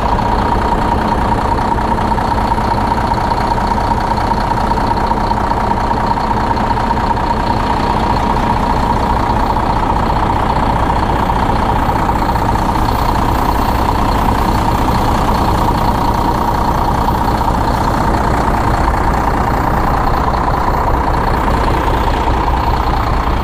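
A used Kenworth tractor truck's diesel engine idles steadily and loudly up close, a continuous low rumble with a fine rhythmic chatter that holds level throughout, with no talk over it.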